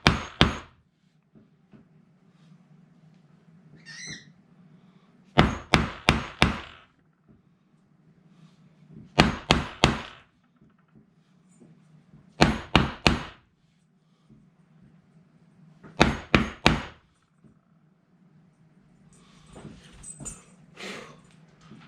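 Hammer blows land in tight bursts of three or four sharp strikes, each group separated by a few seconds of quiet, close and crisp over a faint low hum.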